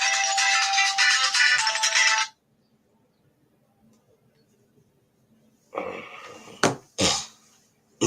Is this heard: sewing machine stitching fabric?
no